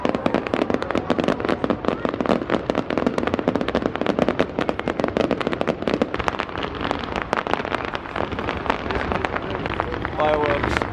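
Dense, continuous crackling and popping of fireworks going off nonstop, loud and close, with voices faintly underneath.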